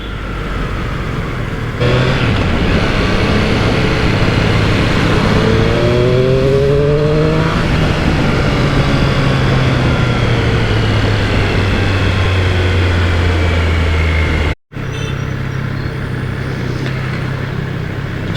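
A Triumph Street Triple R motorcycle rides through heavy traffic on dirty roads, its engine a loud, steady drone whose pitch rises and falls, with a brief dropout near the end and no talking.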